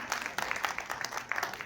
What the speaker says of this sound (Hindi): जोरदार तालियां आपके बरसे होनी चाहिए